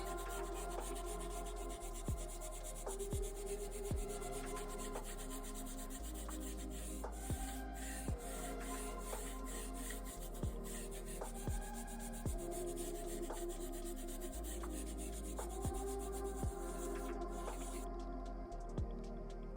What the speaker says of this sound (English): Just let the weight of your hand and the magic eraser do the work and gently scrub back and forth.